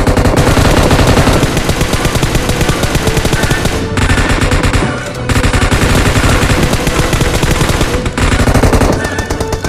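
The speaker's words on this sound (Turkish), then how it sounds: "diğer taraftan da sıkıyorlar" Loud, sustained automatic gunfire from the PUBG Mobile video game rattles almost nonstop, with only brief pauses near four, five and eight seconds.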